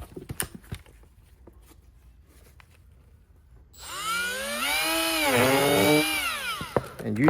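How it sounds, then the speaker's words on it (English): A handheld power tool grinds off part of a shifter cable during a DIY job on an SW20 MR2, starting after a few faint clicks and then a loud, high whine that rises and falls in pitch for about three seconds. "And we'll go ahead and grind it off."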